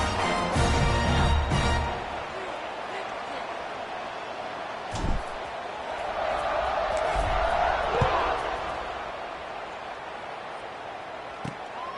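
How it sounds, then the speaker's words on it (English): Football stadium crowd roaring at a kickoff during an LU vs BYU game, a loud sustained swell of cheering and noise that rises and falls, with a few sharp thuds. "this crowd is feeling themselves after that last drive"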